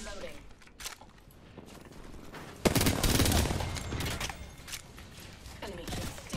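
Rapid bursts of automatic gunfire from an Apex Legends firefight, loud and close, with a heavy sustained volley in the middle and scattered shots before and after, under a voice talking.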